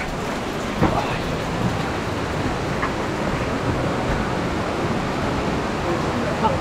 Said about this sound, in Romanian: Ce curge aici apă. Ce repede.